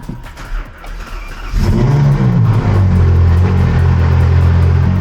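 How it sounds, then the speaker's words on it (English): A Porsche GT2 RS cold-starts: a brief crank, then the engine catches at about 1.5 seconds and settles into a loud, steady, rumbling high idle close by, with no talking. "We're gonna do a cold start. Hopefully the car starts."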